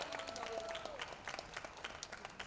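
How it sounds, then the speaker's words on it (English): Scattered applause and clapping from a small group, fairly faint and uneven, with a brief tonal voice-like trace early on and the claps thinning out toward the end. "A big round of applause."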